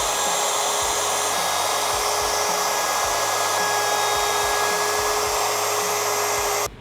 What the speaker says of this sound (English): And now this router computer has determined the exact right RPM for our round over here.